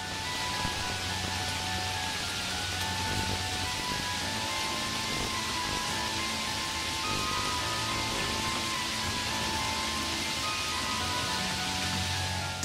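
Steady rain falls at night outdoors, picked up by a security camera, a constant hissing patter with no letup, even and moderately loud throughout with no voices.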